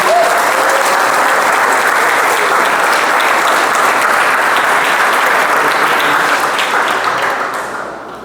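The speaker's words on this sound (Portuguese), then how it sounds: "Vamos aplaudir vocês mesmos aí?" A seminar audience applauds itself in a dense, loud, sustained burst of clapping that holds steady, then tapers off near the end.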